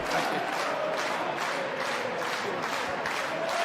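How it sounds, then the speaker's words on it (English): The Northampton Saints home crowd at a rugby match against London Irish sends up a continuous roar of cheering and applause that swells in a rhythmic, chant-like pulse and fills the air steadily. "the Saints crowd, you're well used to hearing this"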